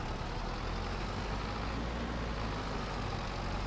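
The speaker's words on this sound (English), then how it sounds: "Come on, little tractor." A small tractor drives along a country road in Farming Simulator 22, its engine giving a steady, close, low rumble with no talking over it.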